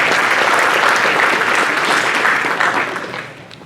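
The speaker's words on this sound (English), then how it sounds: "So please give him a big round of applause." Loud, steady applause from an audience at a Diwali cultural program in Panama City, Florida, honoring a gas station owner who donated, sustained throughout and easing off slightly near the end.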